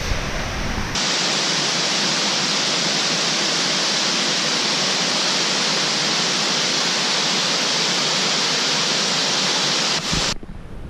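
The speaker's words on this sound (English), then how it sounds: "and more waterfalls." A Himalayan forest waterfall on a trek roars as a loud, steady rush of falling water, broadband and constant for about nine seconds before cutting off.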